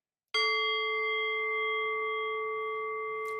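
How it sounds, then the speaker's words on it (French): A single meditation gong struck once rings out with a sharp attack and a long, clear, slowly fading tone sustained to the end, heard alone in a quiet room. "un petit coup de gong pour commencer."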